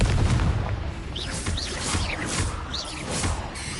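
Confringo blasting spells cast in the Hogwarts Legacy video game, a rapid series of loud booming bursts with crackling pops, several blasts in close succession.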